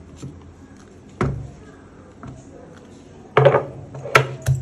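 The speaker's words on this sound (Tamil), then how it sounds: "அதுக்கு கொஞ்சமாக சின்ன வெங்காயத்தை தட்டிக்கலாம்" Small shallots being pounded in a stone mortar while crab soup is prepared: a few sharp, separate thuds and knocks, fairly close, with quiet pauses between them and one pair of quick strikes near the end.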